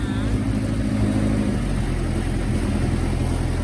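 A car engine idles steadily at about 1600 RPM, a continuous low rumble with a faint whine above it, close by and unchanging throughout.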